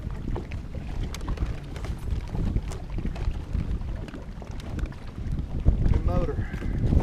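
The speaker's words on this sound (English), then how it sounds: "It's a good motor." A Suzuki outboard motor runs steadily on a boat on Lake Murray, a continuous close drone mixed with gusty wind buffeting the microphone for about seven seconds.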